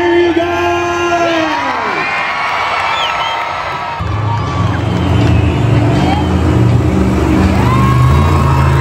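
A stadium crowd at a Monster Jam show in Fresno, California, cheers and whoops in a sustained roar, loud and continuous, with heavy engine rumble joining partway through.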